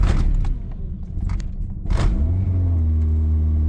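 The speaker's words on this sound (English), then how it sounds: "it's misfiring" A Honda CRX engine catches and runs roughly, misfiring, after a stall from a possible fuel pump or ignition fault; a loud close rumble with uneven sputtering settles into a steady idle drone.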